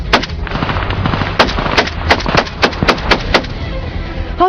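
Sharp gunshots crack in an irregular series at a front line during a ceasefire violation, some fairly close and others more distant, over a constant rumbling outdoor background.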